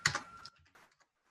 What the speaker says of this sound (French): Vous avez possibilité avec votre clavier de faire avec le bouton tabulation